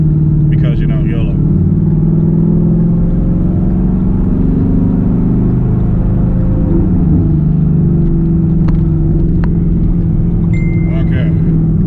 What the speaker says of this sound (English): We're going to slowly let it go up to 5 in second gear.